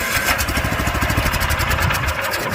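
An Asia AMC-900SM walk-behind cultivator's small engine runs with a fast, steady chugging rumble just after a key start, loud and close throughout with no voices over it.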